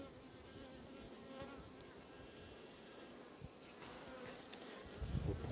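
Honey bees buzz steadily around an opened hive, a dense, close swarm drone that holds throughout and swells slightly louder near the end, with no talk over it.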